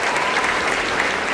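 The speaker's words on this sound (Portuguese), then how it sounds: "gente, pode aplaudir." A packed plenary of Brazil's Chamber of Deputies breaks into applause during a solemn session honoring the CNC's 74th anniversary, a dense, steady wash of clapping that fills the hall without a break.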